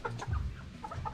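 A pure Sweater gamecock stag gives a few short, soft clucks in quick bursts, fairly quiet and close, with light farmyard noise around it.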